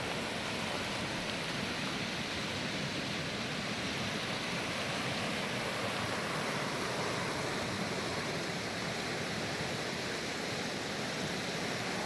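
Cold snowmelt river rushes through a snowy mountain valley, a dense, continuous roar of flowing water that stays loud and unchanging throughout.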